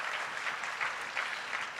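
An audience at a university graduate hooding ceremony claps in a short, even burst of applause, moderately loud, with no voices over it.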